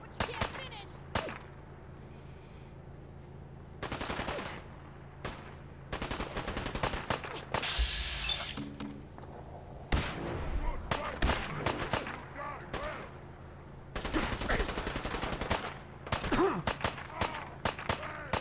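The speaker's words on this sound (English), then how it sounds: "Who is shooting me from over there?" Fallout 4 firefight with bursts of automatic gunfire and sharp single shots, some close and loud, others more distant, separated by quieter stretches.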